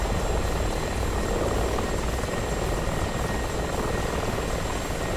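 Ka-50 and Mi-24 attack helicopters fly in the combat flight game DCS World, a loud, dense rotor and turbine roar that runs steadily and close the whole time with no talk.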